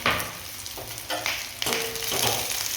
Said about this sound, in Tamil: கொஞ்சம் நேரம் வதக்கணும், வெங்காயம் கொஞ்சம் வேகிற வரைக்கும்.